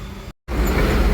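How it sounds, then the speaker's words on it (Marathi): Road traffic jam on Ghodbunder road during a tempo trip: a dense, steady roar of vehicles heard up close, broken by a brief total dropout before the rumble returns louder. "हे आम्हाला लागलेलं आहे घोडबंदरचं ट्रॅफिक"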